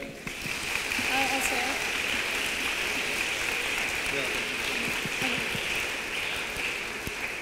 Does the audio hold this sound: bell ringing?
no